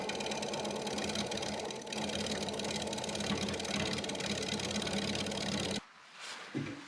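A wood lathe spins at about 600 rpm while a half-inch bowl gouge cuts a natural-edge spruce bowl, giving a loud, continuous rattling hum that cuts off abruptly near the end.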